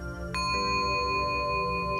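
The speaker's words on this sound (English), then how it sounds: "each and every time you hear the bell" A single bell rings in a calm hypnosis session, a clear ding struck once and left to sustain with a long, steady ringing tone and a low hum beneath.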